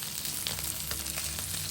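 Mustard seeds sizzle and pop in hot tempering oil, a steady moderate hiss with scattered small crackles, close and without voices.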